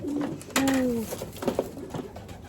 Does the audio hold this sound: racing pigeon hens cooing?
yes